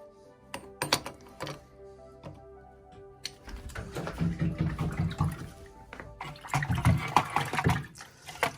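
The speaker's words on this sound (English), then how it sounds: "washing the wheels" Water splashes and trickles as old plastic wheels from a 35-year-old 1980s Dickie Taiyo Overland 4x4 toy car are washed, with close clatters and knocks of handling between bursts of running water.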